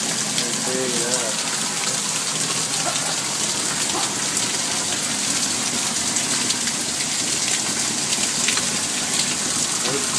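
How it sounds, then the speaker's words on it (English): Heavy rain pours down in San Antonio, Texas, a dense steady hiss of water striking surfaces close by that runs unbroken throughout. "It's pouring. We need the rain though, for real."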